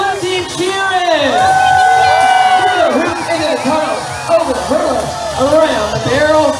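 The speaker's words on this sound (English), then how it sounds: "Cheering!" Loud crowd cheering and whooping at an outdoor stunt dog show at the State Fair of Texas, a sustained roar with shouts and excited voices rising and falling, and people talking over it.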